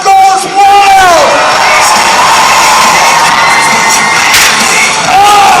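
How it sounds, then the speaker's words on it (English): A loud crowd cheers and shouts at an extreme jousting match at the Ohio Scottish Games, a sustained roar of voices with whoops and children's yells that stays near throughout. "And the crowd goes wild."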